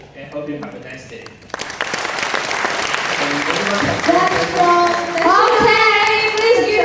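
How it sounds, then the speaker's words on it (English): A conference audience breaks into applause that swells and holds steady, with a voice speaking over the clapping. "please give a round of applause for National Central University"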